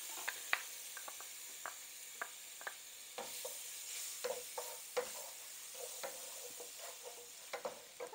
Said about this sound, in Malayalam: എണ്ണ ചൂടായിട്ടുണ്ട്. നോക്കൂ, ഇഞ്ചി, വെളുത്തുള്ളി, നമ്മുടെ പച്ചമുളകും കൂടെ ഞാൻ ചതച്ചെടുത്ത് വെച്ചിട്ടുണ്ട്.